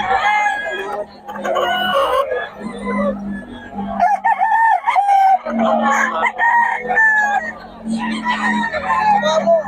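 Young bullstag roosters crowing repeatedly at a busy Bocaue market, loud nearby crows overlapping with clucks from other fowl while people talk throughout.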